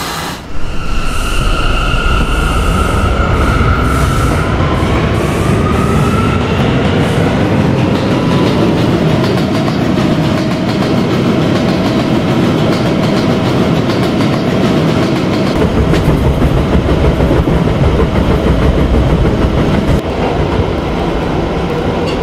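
An R179 D subway train in the Roblox game PTA Subway rolls along loudly with steady rumble and rhythmic clacking of wheels, a brief screech and hiss early on, no talking.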